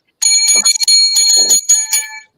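Bright hand bells ring out close and loud in a quick run of jangling strikes, with a brief break partway through before trailing off.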